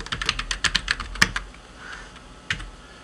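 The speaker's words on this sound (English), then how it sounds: "You type the name of the person," A computer keyboard clatters in a quick run of crisp, close keystrokes, then goes quiet before a final isolated tap, as a name is typed into a birth data entry form in astrology software.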